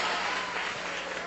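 Church congregation clapping steadily in a dense, continuous wash, close and loud, with no voices standing out.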